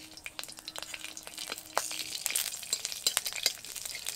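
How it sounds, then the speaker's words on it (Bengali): Panch phoron spices, with a bay leaf and dried red chili, crackle in hot mustard oil in a kadai, giving sharp irregular pops over a light sizzle, close and fairly quiet. "এবার তেলের মধ্যে ফোড়ন দিয়ে ডালটাকে ছুঁকে নেব।"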